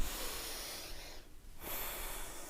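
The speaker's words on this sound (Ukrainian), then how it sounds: "Видих, вдих." Breathing during a morning exercise routine, with a slow broadband exhale followed by an inhale close to the microphone, no talking, and a brief high hiss near the end.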